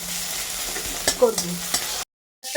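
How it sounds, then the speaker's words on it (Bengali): Onions frying and being stirred in a pan for Bengali egg dal: a steady sizzle with scraping stir strokes that grow louder toward the middle, then a sudden short silence before the sizzle returns. "একটু ভালো করে ব্রাউন করে লাল লাল করে ভেজে নেব"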